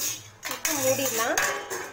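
A metal lid set onto a cooking pot of venpongal, a close clank followed by a ringing metallic shimmer and a second lighter knock as it settles.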